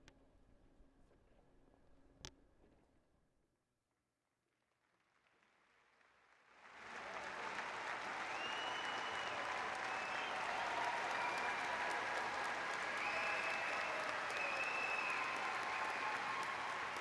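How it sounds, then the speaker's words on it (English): After a few seconds of near silence, a large graduation ceremony audience at Clemson breaks into loud, sustained applause that swells quickly and holds steady as a dense wash of clapping. "I need a really, really loud round of applause for our newest graduates."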